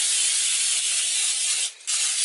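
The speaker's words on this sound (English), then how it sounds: "I'm spraying it with olive oil." Olive oil cooking spray hisses steadily onto a baking dish for homemade mac and cheese, a close, continuous airy spray with one brief break just before the end.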